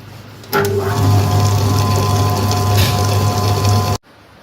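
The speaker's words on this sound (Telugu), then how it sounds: "మళ్ళీ గ్రైండర్ ఆన్ చేస్తాను." A wet grinder churns gongura pickle paste with water added, starting abruptly and running as a steady, loud wet whirring and sloshing hum before cutting off near the end.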